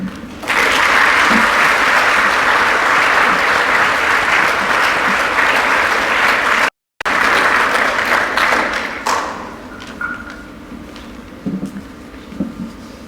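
A crowd claps after a lecture on cultural and prescribed burning, with loud, dense applause that holds steady, breaks off briefly, then thins out into scattered claps and quiet room noise.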